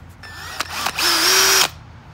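An 18-volt cordless drill fitted with an adapter and powered by a 20-volt battery whirs up for about a second after a few short clicks and brief bursts, spinning at steady loud speed before stopping.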